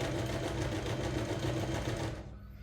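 Steady, fast mechanical whir of a sewing machine stitching fabric up alongside a zipper's teeth, running continuously close by before stopping abruptly near the end.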